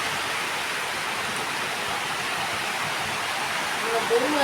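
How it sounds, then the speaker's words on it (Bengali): Steady rain falls in a continuous broadband hiss, heavy and even, heard from indoors near a window beside a fruit tree, with a few faint clicks near the end. "এই বৃষ্টির মধ্যে"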